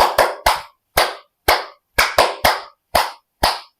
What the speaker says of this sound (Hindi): तालियों के साथ ताली वादन करेंगे।